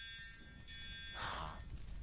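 A fire alarm sounds in a factory setting, a steady high electronic tone held on and off against a low rumbling background, followed by a brief burst of noise.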